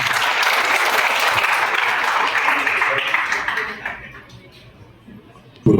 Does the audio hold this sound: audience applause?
yes